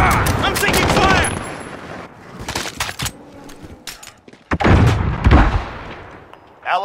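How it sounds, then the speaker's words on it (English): Heavy gunfire in the video game Modern Warfare, with dense bursts of shots and booming blasts through most of the stretch, mixed with in-game radio voice announcements. "I'm taking fire."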